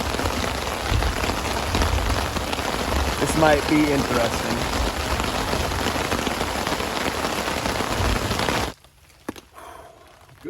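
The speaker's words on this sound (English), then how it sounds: "it's just a giant wave of storms. There's lightning. You hear the thunder." Steady, heavy rain from a huge storm pours down on an overnight hammock camp for most of the clip with a brief voice partway through, then cuts off abruptly to near silence; no distinct thunder stands out.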